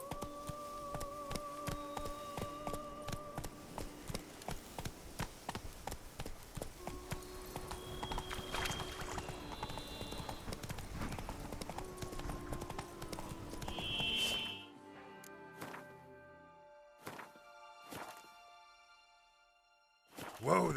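Roach, the horse in The Witcher 3, clip-clops along in a steady, close rhythm of hoofbeats over game music, then slows to a few scattered steps near the end.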